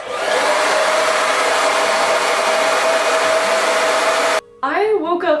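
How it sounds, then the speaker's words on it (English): A hair blow dryer runs at full power with a steady, loud whooshing roar for several seconds, then cuts off abruptly, and a voice is briefly heard afterward. "Put the blow dryer in your face."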